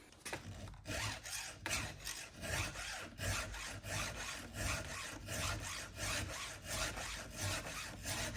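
A round file sharpening the chain of a Husqvarna 55 Rancher chainsaw, rhythmic rasping strokes about every half second, close and steady with no voices.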